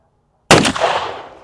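One loud gunshot from a very large revolver of the kind associated with Marty Robbins. It cracks sharply out of silence, close by, and trails off into a ringing, echoing decay.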